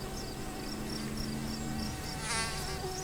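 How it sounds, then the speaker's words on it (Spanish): A whining insect buzz, presented as a mosquito, hums steadily for about three seconds at moderate level, rising briefly into a louder, brighter drone near the end, with no talking over it. "el mosquito."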